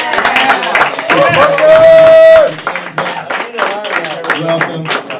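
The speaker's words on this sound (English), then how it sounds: "Let's have a round of applause for Improv with Marcus" Comedy show audience applauding the improv group, scattered clapping and cheers mixed with a host speaking and a brief sustained tone.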